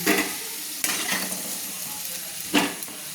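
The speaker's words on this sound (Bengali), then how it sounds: "তো এবার আমি একটা চামচে তুলে নিচ্ছি, আলুগুলো তুলে নিচ্ছি।" Fried potatoes are scooped from hot oil with a spoon for a Kolkata-style green bean and potato dish, giving steady close sizzling broken by two sharp metallic spoon scrapes against the pan.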